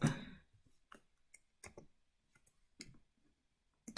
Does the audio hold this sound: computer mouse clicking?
yes